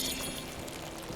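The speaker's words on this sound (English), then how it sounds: "Do I have to water them again?" Watering plants in Spiritfarer: a short, steady splashy pour of water that holds at an even level for about a second with no other sounds.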